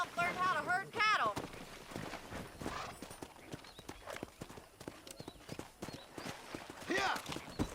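Horse hooves clip-clop in Red Dead Redemption on a cattle ranch, a steady rhythm of close hoofbeats running through the whole stretch under spoken dialogue, with a brief whinny-like cry near the start.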